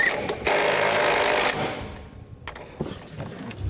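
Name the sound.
tightening truck leveling kit bolts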